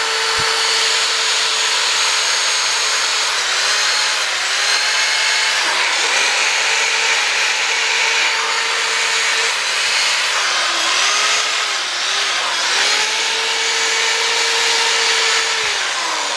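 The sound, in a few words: buffing aluminum motorcycle fork with a soft polishing wheel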